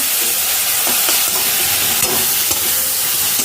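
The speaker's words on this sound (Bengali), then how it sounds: "লাল লাল করে ভাজা হয়ে গেল এবার আমি দিয়ে দিলাম পেঁয়াজ টমাটো এর মধ্যে একটু কাঁচা লঙ্কা আছে" Onions, tomatoes and green chilli fry in hot oil with a dense, continuous sizzle and hiss, punctuated by soft stirring scrapes, close and loud throughout.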